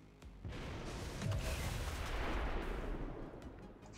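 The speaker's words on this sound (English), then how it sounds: "we're looking at a lot of explosions" Explosions erupt in the video game XCOM 2, a dense, sustained roar of booms and rumbling blasts that swells after a brief lead-in and holds loud throughout, with no voices.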